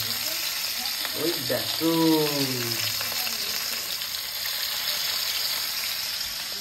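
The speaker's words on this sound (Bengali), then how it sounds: "তবে মাছ ভাজাভাজি কিন্তু চলছে।" Fish coated with turmeric and salt fries in a pan with a steady, close sizzle, while a person speaks briefly near the start over the crackling oil.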